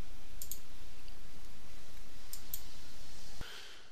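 Computer mouse clicks while working in Adobe Photoshop, a few sharp close clicks in pairs over a steady room hiss, no speech.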